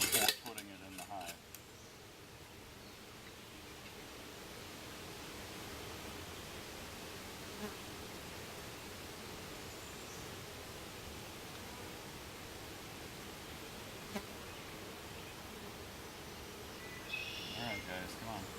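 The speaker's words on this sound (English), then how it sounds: "Lots of bees up here at the top." A steady, dense buzzing of many bees at the top of a Warre hive, a continuous hum with a few faint knocks and rustles near the start and end.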